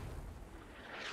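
Dull, rumbling mortar blasts in the military shooter game Squad, a heavy low boom filling the whole moment with no voices over it.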